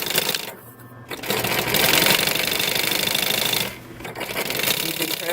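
A sewing machine back stitches seat fabric in rapid, buzzing bursts, running steadily, pausing briefly twice, then starting again, with a voice talking during the pauses.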